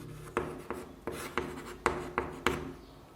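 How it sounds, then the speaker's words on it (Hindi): Pen writing on paper, close and fairly quiet, with about seven short, even scratching strokes in a steady rhythm. "नाम लिख देता हूँ"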